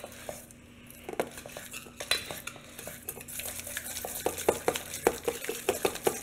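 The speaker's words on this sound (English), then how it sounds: "we're going to mix this up until it's really smooth and creamy" Cream cheese batter for pumpkin cheesecake muffins is beaten in a bowl, giving rapid rhythmic clicks and scrapes of a utensil against the bowl that grow busier and louder toward the end, with no voices.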